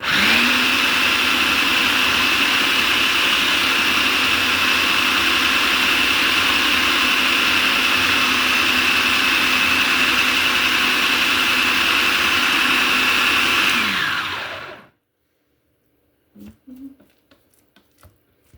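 Blender whirring through cilantro pesto, a loud steady motor drone with a high whine held for about fourteen seconds, then cutting off abruptly into near silence broken by a few soft clunks.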